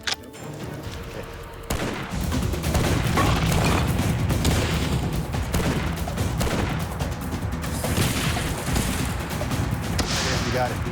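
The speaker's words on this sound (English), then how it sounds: "pull the cocking handle back, and you shoot" Sustained rapid gunfire from a hopper-fed gun after the cocking handle is pulled, a dense continuous burst of shots running loud for about nine seconds after a brief quieter lead-in.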